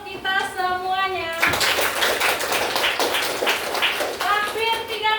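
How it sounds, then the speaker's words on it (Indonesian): Children in a classroom break into applause, a dense burst of clapping lasting a few seconds, bracketed by a teacher's speech before and after. "tepuk tangan untuk kita semuanya"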